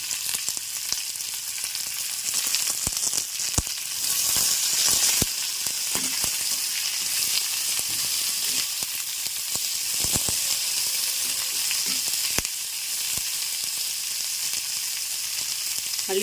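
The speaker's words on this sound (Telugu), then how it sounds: "ఇదిగోనండి ఈ రకంగా చక్కగా వేపాను, చూసారు కదా" Ground spinach and onion paste fries in a pan with a steady, bright sizzle and hiss that runs throughout. Scattered stirring clicks and scrapes sound close by.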